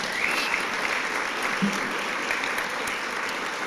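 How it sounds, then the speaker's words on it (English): A crowd at a service dog class graduation gives a continuous round of applause for the staff, steady and full from start to finish. "One last round of applause for that staff that made all that happen."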